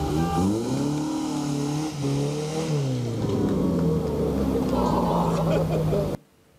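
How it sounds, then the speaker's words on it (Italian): A 1963 third-series Alfa Romeo Giulietta engine roars loudly and close at a road race, its pitch climbing and dipping as it revs, then cutting off abruptly near the end. "Bellissimo questo rombo eh, che riporta i motori di tanti anni fa"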